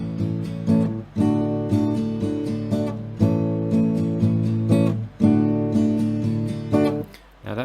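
Acoustic guitar played for a song, strumming a steady pattern of chords that briefly cut to near silence between each change instead of ringing through, heard close and alone.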